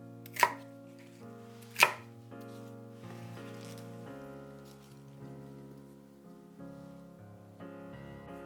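Bok choy being cut into pieces for a beef stir-fry, two sharp knife strikes on a board near the start, then quieter handling over a steady bed of background music.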